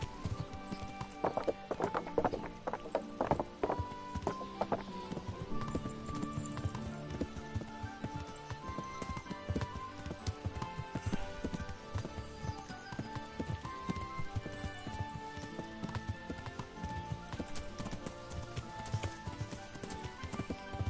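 Continuous horse hooves clop in a steady rhythm over a busy soundtrack from the video game Kingdom Come: Deliverance, with scattered clatter throughout.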